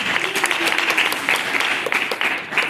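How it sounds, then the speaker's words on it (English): Dense, continuous applause from an audience at a community event, loud and steady with a bright clatter of many hands clapping. "let's give Ms. Dr. Sanders another round of applause"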